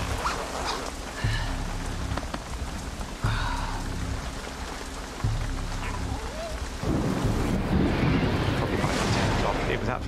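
Heavy rain drums steadily on a tent's fabric on a mountain in solid cloud, with gusts of wind buffeting, growing louder and denser toward the end; faint voices appear briefly.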